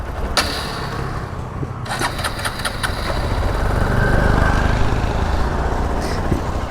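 A motorcycle engine idles steadily nearby with a low, even rumble and faint mechanical ticking, heard alone without talk.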